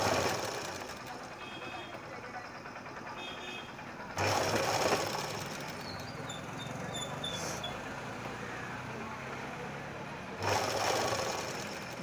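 A sewing machine stitches around a Punjabi full collar neck, running in a steady close whir with brief louder bursts as the fabric is turned.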